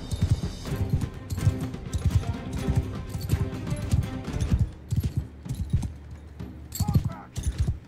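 A horse galloping in the video game Mount & Blade II: Bannerlord beats out rapid, rhythmic hoof clops with occasional neighs, close and loud, while someone talks over it.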